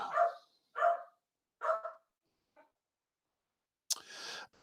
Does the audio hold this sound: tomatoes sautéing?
no